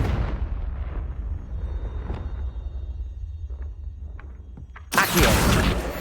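A Confringo blasting spell explodes in the game Hogwarts Legacy: a deep rumbling blast decays with scattered crackles and pops, then a second loud burst erupts near the end, no voices.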